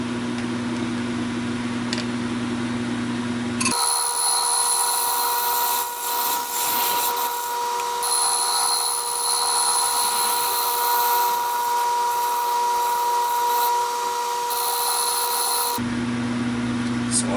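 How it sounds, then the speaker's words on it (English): Round nose scraper shaving the outside of a segmented cherry and walnut bowl on a spinning lathe, a steady high whine and scraping rasp over the motor hum that holds for about twelve seconds and then stops. "I'm going to give the outside one more little scraping"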